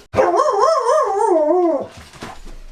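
A dog lets out a loud, wavering howl that rises and falls for about two seconds, close by, followed by a few softer yelps and whimpers.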